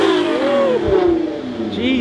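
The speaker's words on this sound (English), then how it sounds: "Car's been sitting there warming up for a bit. Demonstrate how much louder it is." A warmed-up Nissan GT-R engine revs up and falls back in sweeping waves, loud, its pitch climbing and dropping close by, with a brief burst of talk.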